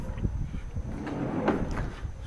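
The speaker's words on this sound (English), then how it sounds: "In the back I have drawers for my tools," Tool drawers in a home workshop slide open and shut, giving a series of soft knocks and rattles at close range with a steady low background rumble.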